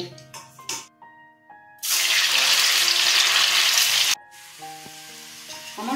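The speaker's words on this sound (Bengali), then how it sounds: "আমি সব মুইঠাগুলো এইভাবে ভেজে নেব" Muitha dumplings hit hot oil and erupt into a loud, close sizzle that holds for about two seconds before cutting off, with quieter kitchen sounds and tonal hums before and after.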